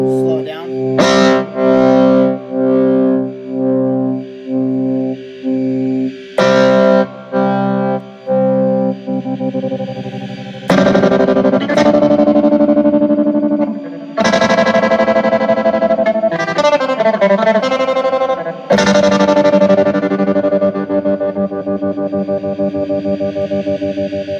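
An electric guitar runs through a chain of effects pedals, first in choppy chords with pronounced echo and modulation, then in longer, distorted, sustained strums with chorus and reverb, loud and close throughout.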